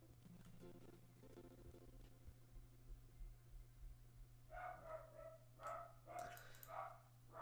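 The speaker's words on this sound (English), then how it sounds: "Can anyone hear my dog going absolutely mental" A dog barks wildly in a rapid burst of yaps toward the end, faint and somewhat distant under a steady low hum.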